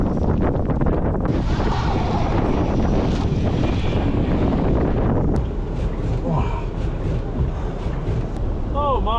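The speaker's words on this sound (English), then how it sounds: "Oh my, it's a little bit windy out there." Strong wind buffets the microphone outdoors in deep snow drifts, roaring in heavy gusts that ease partway through, while a man breathes hard and speaks briefly over it.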